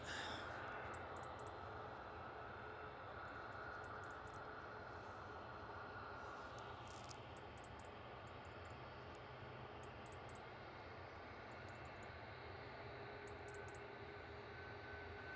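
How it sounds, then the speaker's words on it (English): A Ryanair airliner departs Edinburgh Airport, its engines a steady, distant broadband roar that holds evenly throughout with no talk. "As we watch this Ryanair that is heading off to Dublin, nose through the shot"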